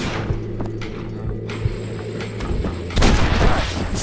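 A shotgun blast in the Red Dead Redemption video game comes as a single loud, sharp report late in the clip, following a run of thudding game sounds and low rumble.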